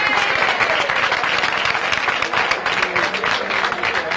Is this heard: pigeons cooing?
no